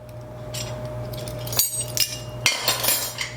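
A utensil scrapes and clinks against a bowl while rhubarb crisp ingredients are stirred together with cinnamon, the taps growing sharper and more frequent toward the end, with no talking.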